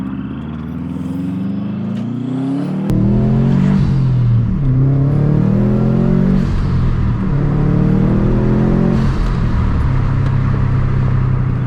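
A Subaru WRX STi drives on the road, its engine loud and close as it pulls through repeated rising and falling rev sweeps through the gears.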